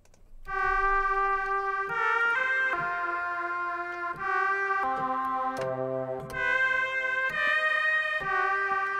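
A Roland Jupiter-8 synthesizer with reverb plays a sequence of bright, sustained notes that shift and overlap, each one trailing off into a washy echo.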